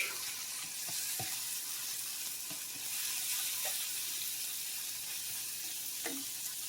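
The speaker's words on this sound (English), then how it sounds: "just saute it in just plain butter" Cod sautés in plain butter in a skillet with a soft, steady sizzle. Faint clicks and light stirring taps come through at intervals, and the sound is quiet and close.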